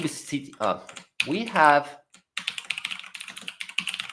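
Rapid clicking keystrokes on a mechanical keyboard fill the second half, close and steady, after a stretch where a person talks.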